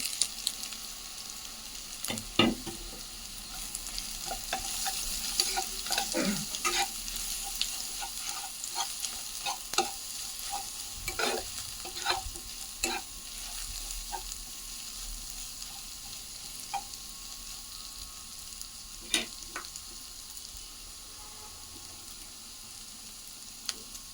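Coarsely ground peanuts, green chilli, coriander leaves and garlic paste frying in a hot pan for chowmein, with a steady soft sizzle and scattered sharp crackles and stirring scrapes, close and without talk.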